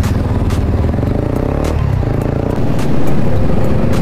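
A motorcycle engine rumbles steadily during a group night ride, loud and close, with scattered clattering and a swell of revving toward the end.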